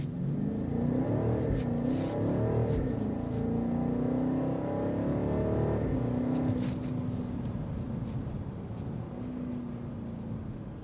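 A BMW X6 M60i's detuned M engine revs hard and steadily under load, its exhaust note rising and holding before easing off with burbling pops near the end, loud and close throughout.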